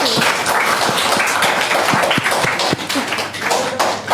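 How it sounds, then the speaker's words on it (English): A classroom of students claps after finishing a group debate on offline versus online education, close, uneven hand claps with sharp taps and a slight dip in the middle before continuing. "Clap for each and everyone."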